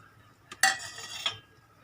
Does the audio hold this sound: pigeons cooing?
no